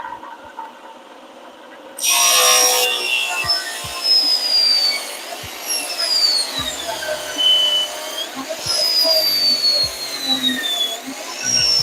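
A power tool trims a wooden piece for a truck subwoofer box, starting with a sharp, loud cutting burst, then whirring on and off in uneven passes at close range.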